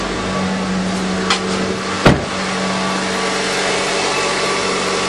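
A Honda Civic engine idling steadily after a timing belt change, a smooth even hum with a faint whine, broken by a brief clank and a short knock in a shop.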